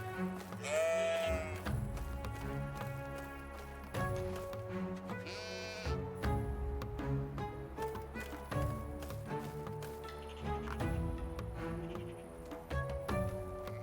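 Sheep bleating in the medieval farming game Medieval Dynasty, several wavering bleats near the start and middle over steady background music with rhythmic hoof-like clops, moderately loud and without talk.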